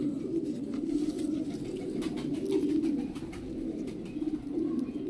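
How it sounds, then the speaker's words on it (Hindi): A pigeon cooing nearby in low, soft throaty phrases that repeat every second or two, with faint background chatter and light outdoor noise. "एक कबूतर"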